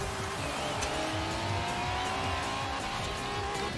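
Car braking and engine drone in the racing game Forza Horizon 4, a steady roar with a rising tone and faint tire scrub running evenly throughout, with no one speaking.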